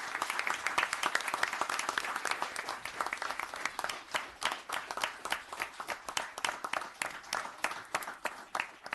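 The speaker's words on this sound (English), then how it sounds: "So if I could have a nice round of applause for Lieutenant DiPietrantonio." Applause at a town board meeting: a small audience claps steadily, fairly faint, with individual claps distinct and the clapping thinning out toward the end.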